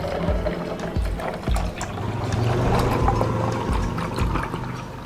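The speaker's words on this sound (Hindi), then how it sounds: "और आइस ऐड करने के बाद इसमें पानी शामिल कर दूँगा।" Water pours steadily into a jug with ice, a continuous close splashing and gurgling that swells slightly in the middle, with no talking.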